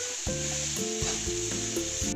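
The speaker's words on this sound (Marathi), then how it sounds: "आता हे थोडं परतून घेऊया।" Grated coconut with ginger-garlic paste sizzles steadily while being stir-fried in a pan for a carrot dish, a constant close frying hiss with faint scraping from stirring.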